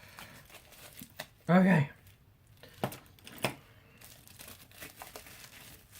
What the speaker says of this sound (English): she's taped up nicely in some bubble wrap